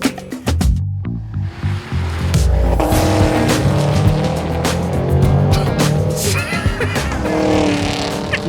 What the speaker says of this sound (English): when it comes to the new 2025 V and its supercharged V8 engine, they haven't changed it at all